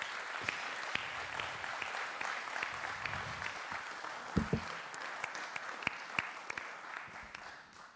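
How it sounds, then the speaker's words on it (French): Applause at a municipal council meeting in a hall, a steady patter of clapping from a modest group heard at some distance, with a few louder thumps midway and the clapping gradually tapering off. "On peut les applaudir."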